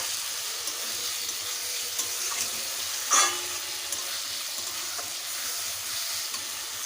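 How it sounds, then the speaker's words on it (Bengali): Ridge gourd with poppy seed paste being stir-fried in a pan gives a steady, close sizzle throughout, with one brief, louder scrape near the middle. "নেড়ে ছেড়ে ভালোভাবে একটু কষে নেব"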